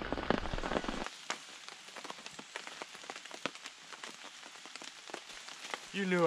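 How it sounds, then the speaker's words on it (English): Heavy rain pours steadily in Alaska, with dense patter and scattered louder drops close by; a brief rumble opens it and a louder rush swells at the end. "Pouring down rain."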